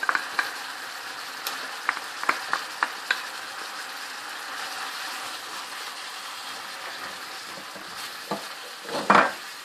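Chaska paste and butter fry with chicken in a pan for chaska pulao, a continuous soft sizzle broken by sharp spoon clicks and stirring scrapes, ending in a louder clatter.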